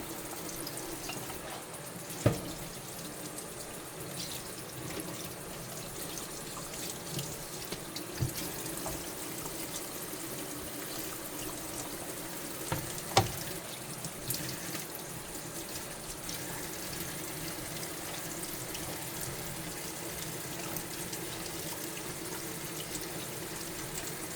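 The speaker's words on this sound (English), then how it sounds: "Let me rinse my knife and my onion off." Tap water runs steadily into a kitchen sink while a knife and an onion are rinsed, a soft continuous splash with a few small clinks and knocks, fairly quiet and with no talking.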